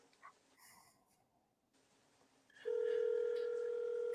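Phone call ringing out through a handset: a steady, loud ringback tone starts partway in and holds to the end, after some quieter background noise and faint keypad-like beeps.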